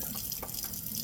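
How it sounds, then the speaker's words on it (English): A little water poured into a mixture while cooking at home, a brief, steady splashing trickle heard close up with small bubbly bursts and no talking. "Adding a little water because I don't have milk."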